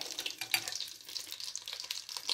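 Butter browning in a frying pan, crackling and sizzling with quick irregular pops, close and fairly quiet, no oil added.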